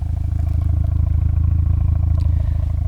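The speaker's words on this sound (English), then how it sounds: "Aftermarket exhaust, the Apex." A Mazda RX-7 Type R FD3S fitted with an Apex aftermarket exhaust idles with a deep, bass-heavy, pulsing burble, loud and close, steady throughout with no talk.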